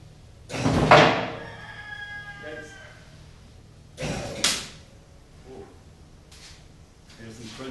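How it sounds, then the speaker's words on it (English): The metal body of a Lamborghini Countach replica crunches and creaks loudly as it is lifted by lift arms under the fenders, in two main bursts with a ringing, groaning tail, followed by fainter scrapes and clicks. "There's some crunching noises over here."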